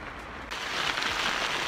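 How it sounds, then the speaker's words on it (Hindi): Heavy rain pours steadily in an outdoor setting where a fire is being lit, a dense continuous hiss that swells louder after the first half second, close and unbroken with no talking. "अभी बारिश बहुत ज़्यादा तेज लग रही है, तो आपको साउंड से भी पता लग रहा होगा"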